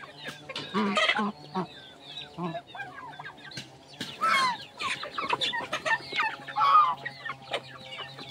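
Turkeys and chickens cluck and chatter while feeding on hammered corn at a farm, a dense overlapping flock of calls throughout with occasional louder squawks, all fairly close.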